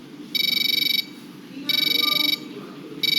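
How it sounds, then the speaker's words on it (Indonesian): A buzzer on an FPGA board sounds in steady, high, electronic beeping bursts of about a second each, separated by short pauses, loud and close over a faint background hum. "nah suara buzzernya seperti ini"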